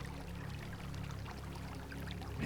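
A stream of water flows steadily, a continuous close pouring rush with a soft, even texture and no breaks, heard alone in a calm setting.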